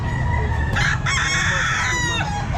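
A Sweater gamefowl rooster crows loudly and close at a busy pet market, one long drawn-out call over steady crowd and animal background noise.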